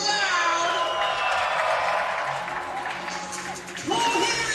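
A crowd at a FIBA 3x3 World Tour basketball game in Amsterdam cheers and applauds steadily, with whoops rising over a dense roar that swells again near the end.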